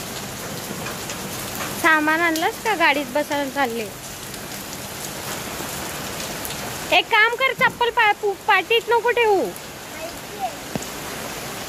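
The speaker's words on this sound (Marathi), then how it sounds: "तर आता पाऊस पडत आहे" Steady rain falls outside as people get into a car on a Navratri temple visit, a continuous soft patter under two bursts of close conversation.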